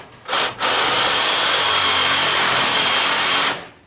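A saw blade grinds through an AC unit's copper and aluminum coil in a loud, continuous rasping cut, with a short pause near the start before one long steady stroke that fades out.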